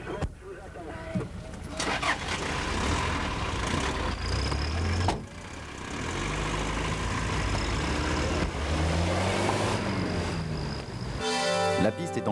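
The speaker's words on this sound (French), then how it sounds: "la 2 chevaux est repartie là" Citroën 2CV rolling slowly along a desert rally track during a 1990 raid, a steady buzzing engine drone throughout with wind and rattling, people talking over it.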